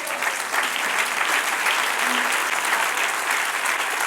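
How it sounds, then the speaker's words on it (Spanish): Loud, sustained congregation applause during a church sermon, a thick continuous roar of many hands clapping at steady intensity, with a faint tonal hum briefly underneath. "Denle un aplauso al Señor ahora."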